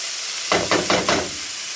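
Seasoning dropped into hot coconut oil in a pot for a Jamaican dish sizzles in four short, hissing bursts over a steady background hiss, close and fairly loud.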